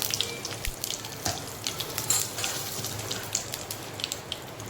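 Cumin, curry leaves and asafoetida sizzling in hot oil while cooking vermicelli upma, a crackling spatter of quick pops over a hissing bed, close and fairly loud, no voices.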